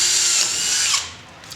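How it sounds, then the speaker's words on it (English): A power drill bores into stainless steel on a small boat retrofit, a loud, steady high-pitched grinding whine lasting about a second before it cuts off and fades. "if you've never drilled on stainless before, you drill fast and hard and you stop and let things cool."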